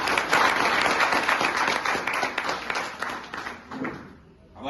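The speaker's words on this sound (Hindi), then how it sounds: "जोरदार ताली बजाएं।" An audience at a health foundation's medical forum applauds in a dense round of clapping. It stays strong for about four seconds, then thins out and fades near the end.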